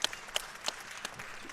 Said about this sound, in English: I'm clapping in the booth